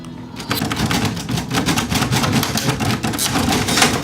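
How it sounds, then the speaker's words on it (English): Dense, rapid clicking of several Braille writers keyed at once during a Braille competition, a loud continuous clatter of mechanical taps with no talking. "we write it down on Braille writers, which are sort of like typewriters"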